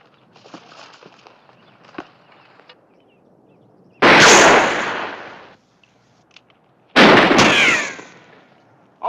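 Two loud, close gunshot bursts crack out in a western film standoff, each with a long echoing tail, separated by a few seconds of quiet rustling and faint footsteps.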